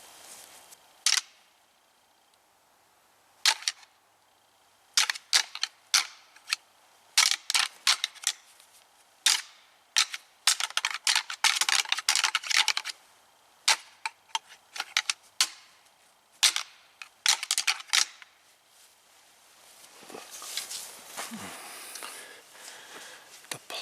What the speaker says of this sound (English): we're just going to break out the rattling racks. And we're going to do some buck rattling.